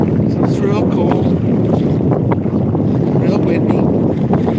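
Strong wind buffets a small boat on rough, cold lake water, a loud continuous roar of wind noise against the microphone with churning water beneath.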